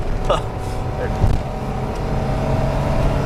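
A 1996 truck with a 454 engine pulls up a hill, its low engine drone steady and close throughout, with a brief bump midway.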